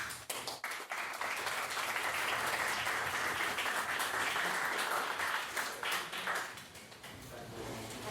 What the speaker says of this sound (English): if we could get a round of applause for all of our speakers